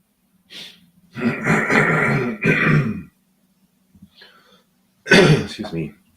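A person nearby coughs and clears their throat in harsh, raspy bursts, one short cough followed by two long throat-clearing fits, a quiet pause, then another loud clearing.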